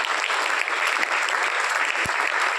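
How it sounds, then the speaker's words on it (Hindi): Dense, loud applause from a school audience in a village school in Chidod, Hisar, at a youth parliament event, a continuous close wash of many hands clapping with no pauses. "जोरदार अपने लिए तालियां बजाएंगे"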